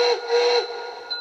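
A short, bright steam-style whistle blast from an MTH German BR44 2-10-0 model steam locomotive, steady and fairly loud, lasting about a second before fading.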